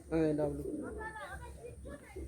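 Pigeons coo softly inside a loft at Chandipur, Medinipur, their low murmuring calls partly under a man's close speech.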